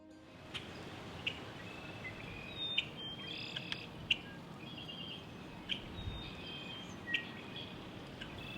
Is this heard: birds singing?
yes